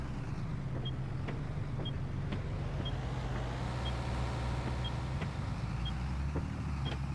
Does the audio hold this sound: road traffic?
yes